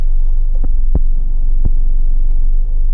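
A 1994 Toyota Hiace Supercustom Limited 4WD van on the move: a loud, steady low rumble from the cabin, broken by a few brief knocks or bumps, with no talking.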